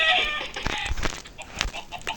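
Chickens in the video game Minecraft give short, fairly loud clucks in a quick irregular series, with no other sounds around them.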